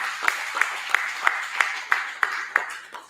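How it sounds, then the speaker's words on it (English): One person claps hands in a steady, even rhythm, about nine sharp claps spaced evenly, close and fairly loud over a light background hiss. "Get a most high hand clap"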